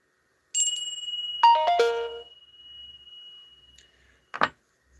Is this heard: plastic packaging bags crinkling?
no